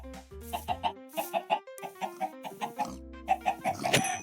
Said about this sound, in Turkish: Tavuk buraya gel.